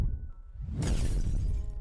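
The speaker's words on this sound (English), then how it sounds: "And all the shield break sound effects are like this." Layered Fortnite shield break effects: a thin tone fades under a low rumble, then a bright glassy shattering crash bursts in and decays into a dense, crackling tail, close and loud.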